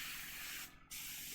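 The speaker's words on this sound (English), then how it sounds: "So I'm spraying out bottom section" An airbrush sprays paint in a steady, fine hiss, close and quiet, that cuts out briefly and then resumes.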